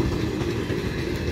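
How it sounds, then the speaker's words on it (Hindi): The Up Howrah–Balurghat Express rolls toward Bandel Junction with a loud, steady rumble and rhythmic clatter of wheels on rail, heard close and continuous. "Howrah Balurghat express Bandel railway junction अभिमुखे जाच्छे।"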